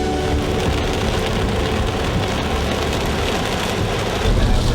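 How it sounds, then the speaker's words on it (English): Steady rain falls continuously outdoors on a road trip stop, a dense, even hiss with no gaps and no voices, moderately loud throughout. "After 2 hours, it started to rain."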